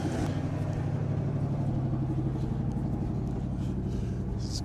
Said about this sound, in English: I've never heard this truck run smoothly.